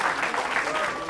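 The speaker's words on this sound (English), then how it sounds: "please give him a round of applause." A brief, dense burst of audience clapping at a board installation ceremony, even and moderately loud throughout.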